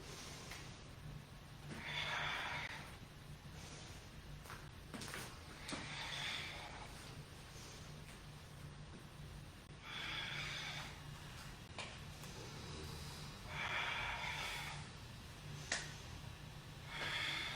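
Slow, rhythmic breathing during a long series of sun salutations, with roughly six audible inhales and exhales at steady intervals of a few seconds, airy and close, with faint thumps of movement between breaths and no talking.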